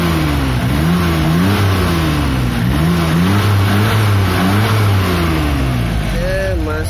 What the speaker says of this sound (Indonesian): Kita coba dengerin raungan suara mesin si hijet ini.